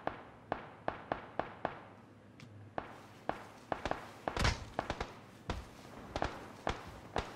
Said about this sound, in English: the shots coming from over there